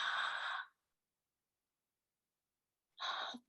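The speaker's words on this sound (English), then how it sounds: "Now exhale." A deep breath exhaled as a calm, audible sigh, followed by silence and then a second short breath, close and clear with no talking.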